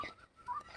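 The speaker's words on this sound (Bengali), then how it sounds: "পাখি ডাকছে" Birds calling outdoors around a house with a rose-apple tree where they feed, heard as a few faint, short chirping calls in under a second with no one talking.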